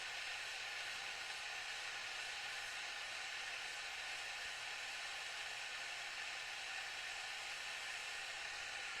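Bernzomatic oxygen torch flame from a tote torch kit, burning as a steady, fairly loud broadband hiss and roar that holds constant throughout with no voices.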